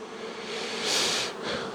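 Honeybees buzz around a drawn comb honey frame lifted from a hive, a close, steady hum that swells in loudness midway, with no talking.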